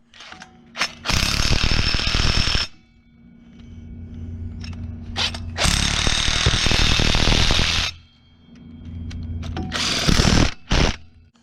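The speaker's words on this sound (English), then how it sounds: "we'll get these screwed in and torqued down" A power tool screwing in and torquing down bolts on a sand limo cruiser car, heard as three loud, sustained bursts of whirring and rattling, with quieter gaps between them.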